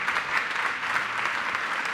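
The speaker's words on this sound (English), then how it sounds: "We do that by standing up, applauding for them." A keynote audience stands and applauds to welcome a speaker to the stage, a dense, steady wash of clapping from many hands that holds evenly throughout.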